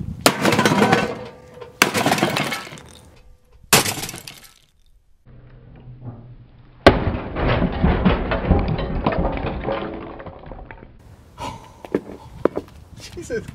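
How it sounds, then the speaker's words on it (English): A sledgehammer smashing the glass of a microwave, with several loud crashing, shattering hits separated by pauses and a longer burst of breaking and clinking glass, heard up close. "I don't want to break any more glass."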